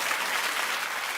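A studio audience at a daytime talk show breaks into sustained, dense applause, a steady wash of clapping that holds evenly throughout with no clear voices.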